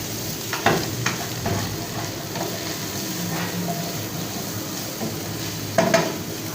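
Chopped vegetables and precooked chicken stir-fry for chowmein in a street cook's pan, a continuous sizzle broken by metal spatula scrapes and clanks, with a few louder strikes near the start and end.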